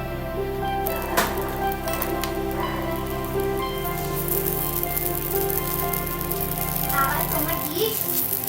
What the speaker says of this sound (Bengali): আমি এক এক করে এগুলো একটু একটু ভেজে নেবো, তারপরে ঘিতে ভেজে নিয়ে সার্ভ করবো ওকে।